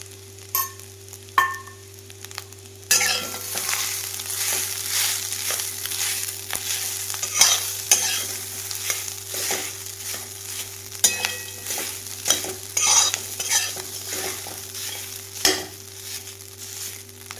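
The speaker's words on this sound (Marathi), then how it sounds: "हे जे स्वीट कॉर्न म्हणजे मका जी बारीक करून घेतलेली आहे ती थोडीशी अशी तुपावरती भाजून घेणार आहे" Ground sweet corn roasts in ghee in a pan with a soft steady sizzle. Repeated scraping and knocking strokes from a spoon break up lumps, and a low steady hum runs underneath.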